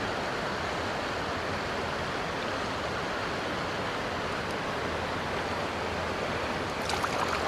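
Steady creek water flowing and rushing over rocks at a trout fishing spot, a continuous broadband wash that holds evenly throughout, with no voices.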